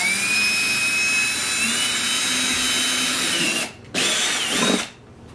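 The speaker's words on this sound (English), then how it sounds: "I'll just go ahead and drill in the corners." A power drill bores into the corners of a board, a steady high whine for nearly four seconds, a short pause, then a second brief burst before it stops.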